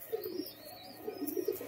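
Pigeons, including a female, coo softly in a small bird sale setting, a few faint low burbling calls in two clusters with quiet chirps overhead.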